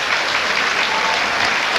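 Rugby league crowd applauding steadily at a Bradford Bulls versus Hull friendly, a dense, even wash of clapping from the stands that holds without a break.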